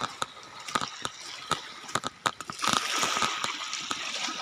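Seawater at a seaside beach sloshing and splashing close by in irregular bursts, with a broader wash of surf building toward the end.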